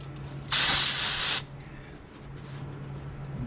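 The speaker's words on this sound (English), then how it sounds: "before I spray some cleaner on it" A single short burst of brake cleaner spray hisses loudly for about a second onto a 2003 Hyundai Elantra's rear brakes, then stops, leaving a low steady hum behind.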